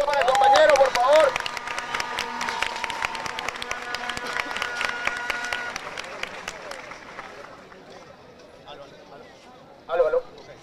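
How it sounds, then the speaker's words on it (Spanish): Audience at a student assembly announcing a march breaks into applause, a dense burst of clapping with a voice calling out over it at first, fading out after about seven seconds, then a brief clatter near the end. "Un fuerte aplauso para el compañero, por favor."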